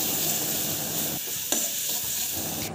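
Onion paste and ginger-garlic paste fry with salt, turmeric, chili powder and cumin-coriander powder, giving a steady loud sizzle with a few stirring scrapes and clinks.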